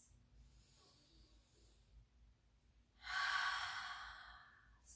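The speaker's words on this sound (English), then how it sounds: "Take deep breaths." Deep breathing during a yin yoga and sound bath session: a quiet, soft stretch followed by one loud, airy exhale lasting about two seconds, heard alone without talk.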